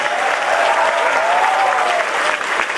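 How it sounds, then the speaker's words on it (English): Loud, sustained audience applause for comedian Papa CJ at St. Xavier's Calcutta, a dense wash of clapping from a large crowd with cheering voices mixed in, steady for the whole stretch. "Let's have a round of applause for Papa CJ."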